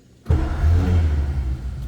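A 1950 Ford Custom four-door sedan engine cranks and catches after a short quiet moment, started by push button, then settles into a close, low, steady idle rumble.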